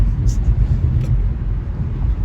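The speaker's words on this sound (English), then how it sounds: "You can hear that flag doing that Jaws thing. You can hear the wind." Strong night wind blows in a steady low roar, buffeting against a car as it rocks, with a flag flapping in the gusts and brief rustling bursts; no talk.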